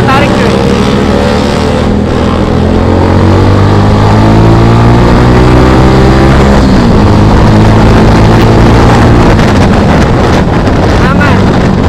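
Kawasaki W175 cafe racer with custom fairing accelerating hard while riding, a loud, continuous engine drone rising in pitch through the gears, heavily buffeted by wind noise.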